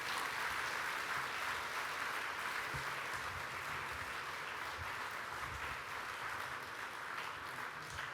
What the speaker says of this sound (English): Please, if you can clap your hands again to recognize him.